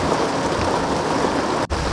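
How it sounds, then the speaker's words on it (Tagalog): Heavy rain pours down around a car driving in Manila traffic, a steady, loud broadband hiss of water drumming on the vehicle that continues without a break, no voices. "Ang lakas ng ulan, men."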